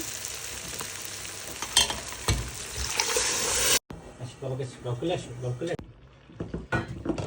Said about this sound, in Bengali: মশলার সাথে চাল ডালটাকে ভালো করে ভেজে নিয়েছি।